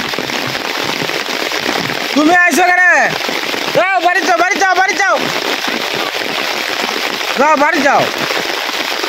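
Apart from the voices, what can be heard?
heavy rain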